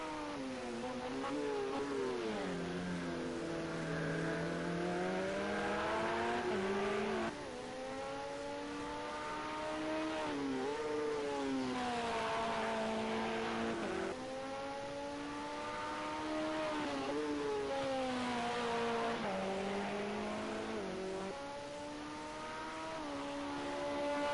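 A leading Porsche endurance race car laps Monza into the Ascari chicane, engine note rising and falling through repeated upshifts, downshifts and braking, loud and close over about twenty-four seconds.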